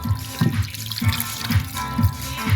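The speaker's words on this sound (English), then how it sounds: "try and crimp this 15mm copper pipe to stop the water coming out" Water spurts from a cut 15mm copper pipe beside the water pump and tank aboard a fire-damaged narrowboat. It splashes in close, steady pulsing bursts, roughly twice a second.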